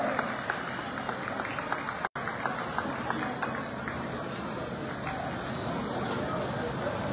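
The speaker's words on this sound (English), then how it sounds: "Let's give them a round of applause." Crowd applause at a supermarket association trade fair opening, a broad, continuous clapping wash with scattered sharper claps, briefly cut by a moment of silence, and a hum of crowd noise and voices beneath.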